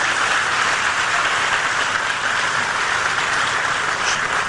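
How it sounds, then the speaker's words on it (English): Sustained applause from an audience at a Texas Tech groundbreaking ceremony for a new School of Veterinary Medicine, a steady dense wash of clapping at even loudness throughout, with no voices over it. "let's give Kendra a round of applause wherever she is"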